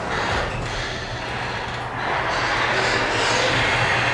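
A residential garage door, the largest moving part of the house, rolls along its track with a steady low mechanical rumble and hum that continues without a break for several seconds, fairly loud and close.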